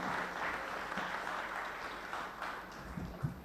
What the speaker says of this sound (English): let's have a huge round of applause for such an interesting panel discussion